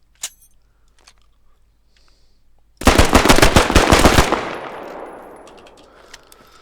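After near silence with a single faint click, a loud, rapid burst of automatic rifle fire in the game Squad rattles off for about a second and a half, then rings out in a long decaying echo.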